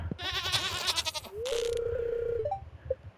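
Goats on a farm in the Stardew Valley video game give a short bleat, followed by a thin sustained electronic tone and small chirpy blips that sound like game effects.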